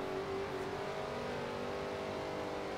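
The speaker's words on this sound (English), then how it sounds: "I think there's a car gonna come flying past me." Car engine from the racing game Forza Horizon 2 drones steadily with a revving, accelerating tone, as if a vehicle approaches and passes, loud and continuous throughout with no talking.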